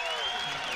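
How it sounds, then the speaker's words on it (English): A home crowd roars and applauds for the Evansville Purple Aces during a timeout at a basketball game against the Bradley Braves, a steady wash of cheering that holds at an even level. "that brings the Aces crowd to their feet here on that timeout"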